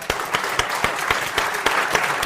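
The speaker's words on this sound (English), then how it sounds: "so give them a big hand" An audience applauds a panel with steady, moderately loud clapping that carries on evenly throughout, with no talk over it.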